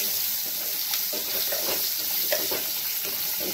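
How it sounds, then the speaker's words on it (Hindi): Potatoes fry with turmeric in a pan, giving a constant close sizzle and hiss broken by soft scraping knocks as the pieces are stirred. "इसको आलू को मैंने फ्राई कर लेना है"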